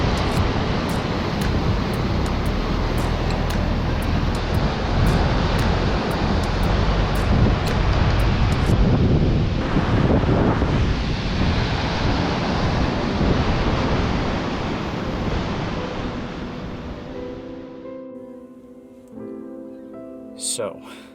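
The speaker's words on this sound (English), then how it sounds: "it got kind of windy outside" Strong wind roars and buffets a microphone outdoors in a steady rush, easing and quieting toward the end.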